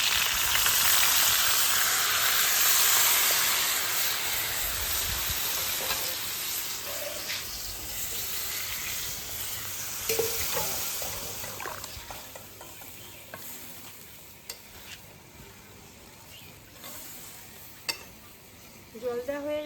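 Water poured into raw mango pickle frying in a pan sets off a loud, broad hiss that gradually settles into a softer, steady bubbling sizzle, with occasional clinks of a spoon.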